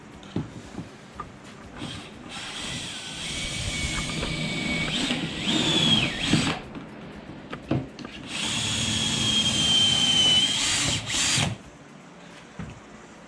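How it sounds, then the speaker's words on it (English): A power drill bores pocket holes in wood through a pocket hole jig for a stool, two long whining runs with short bursts and pauses between them, close and loud. "What I'm doing now, I'm going to put the pockets in"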